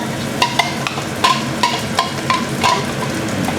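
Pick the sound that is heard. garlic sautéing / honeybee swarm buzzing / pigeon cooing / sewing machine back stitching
garlic sautéing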